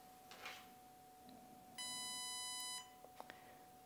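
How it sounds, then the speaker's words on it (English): A Spektrum DX6C transmitter binding to an ARRMA Granite GROM gives one clear electronic beep lasting about a second, followed by a few faint clicks, with no voices. "And as you heard that beep, your DX6C is now bound up to the ARRMA Granite GROM."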